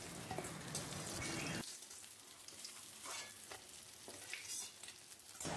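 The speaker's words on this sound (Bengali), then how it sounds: "মাছের মাথা খুব সুন্দর করে ভেজে নিয়েছি" Catla fish heads fry in hot oil with a steady, dense sizzle and crackle that runs throughout, loud and close, with no voices.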